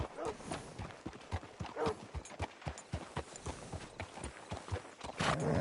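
Steady clip-clopping horse hooves in a video game trot along at an even rhythm, with voices talking over them.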